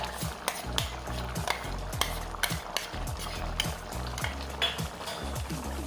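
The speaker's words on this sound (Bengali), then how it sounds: "সর্ষে বাটা দেওয়ার পর আবারও ভালোভাবে নেড়ে চেড়ে দিচ্ছি" A spoon works mustard paste into a sizzling green tomato curry, scraping the pan with repeated, regular strokes and sharp metallic knocks over a constant frying hiss, with no voices.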